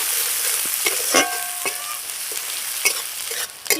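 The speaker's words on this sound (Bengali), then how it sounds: "এবার আমি দিয়ে দেবো কুচানো পেঁয়াজ। পেঁয়াজটাকে একটু ব্রাউন করে ভেজে নেবো প্রথমে।" Chopped onion fries in hot oil for a Bengali mrigal fish curry, giving a steady close sizzle broken by sharp spatula clicks and scrapes against the pan, with no talking.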